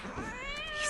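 A cat gives a single drawn-out meow, used as a horror film jump scare; the cry is brief, fairly faint and heard alone.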